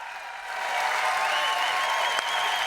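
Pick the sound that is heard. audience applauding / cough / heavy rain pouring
audience applauding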